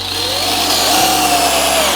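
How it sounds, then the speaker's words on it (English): Harbor Freight DrillMaster cordless drill driving a number 8 wood screw into a stud with no pilot hole, a steady loud motor whine with a slight drop in pitch as the screw bites, continuous and close. "You can also insert this number 8 wood screw into the stud without drilling a pilot hole."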